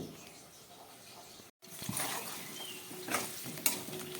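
Potatoes with onion fry in a hot wok (kadhai) while being stirred, with a steady close sizzle, a brief cut of silence, then scraping stir strokes and a sharp clink of a utensil against the pan.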